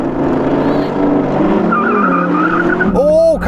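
A Porsche Cayenne Turbo GT and an Audi R8 roar loudly side by side at a drag race start, engines revving high as tyres squeal, then a sharp rising wail of acceleration bursts out near the end.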